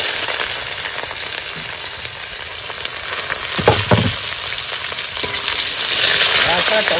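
Chopped onion with whole cumin sizzling loudly in hot oil in a curry pan, a steady broadband crackle throughout, with a few stirring scrapes and clinks midway and the hiss swelling louder near the end.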